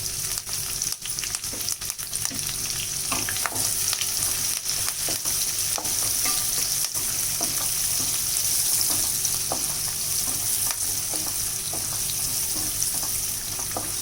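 Chopped onions and green chillies fry in hot oil in a pan for tomato rice, a loud, continuous close sizzle with frequent crackles and light stirring scrapes throughout.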